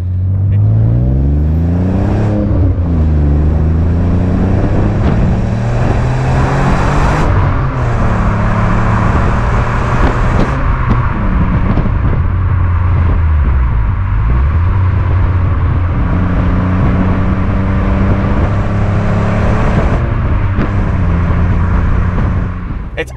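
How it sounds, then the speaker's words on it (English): A 2000s Alfa Romeo 156 GTA with its 3.2-litre 24-valve 60-degree Busso V6 drives along steadily, the engine note climbing and falling through gear changes as the revs rise and settle, loud and close throughout with a constant road roar beneath. "It's Alfa's classic 60-degree 24-valve Busso engine, which gives this car 250 horsepower as standard and 221 pounds of torque"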